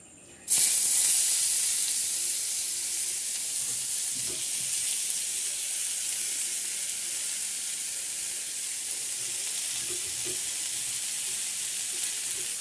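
Chopped onions hit a pan of hot oil with a sudden burst of sizzle, then keep frying in a steady loud hiss with a few faint stirring knocks.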